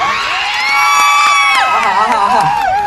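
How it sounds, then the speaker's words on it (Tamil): Vijay fans in a crowd at the Margazhi Makkalisai music event in Chennai cheer and shout loudly, high whoops and screams rising over clapping, close and sustained. "இளைய தளபதி விஜய் ரசிகர்கள் கைத்தட்டல் பார்க்கலாம்."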